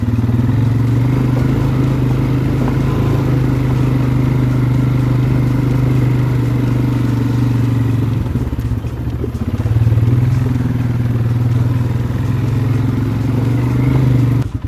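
ATV ridden over rocky ground, its engine droning steadily and loud throughout with rough clattering from the bumpy terrain, a brief dip near the middle before the motor picks back up.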